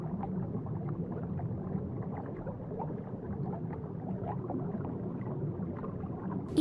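A blue whale calls underwater in long, low, rumbling moans, a steady murmur without pauses that stays fairly faint throughout.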